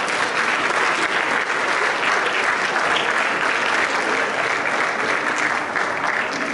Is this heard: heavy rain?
no